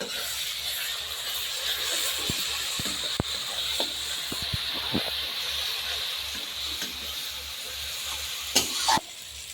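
Ground spice paste of ginger, garlic, onion, poppy seed and nuts with turmeric, Kashmiri chili powder and salt sizzles steadily in a pan for a rohu fish dish, stirred with scraping clicks and a couple of louder knocks near the end.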